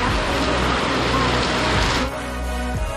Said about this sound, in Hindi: क्या बारिश कर रही है।